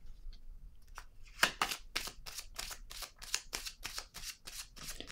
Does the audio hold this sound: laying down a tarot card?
yes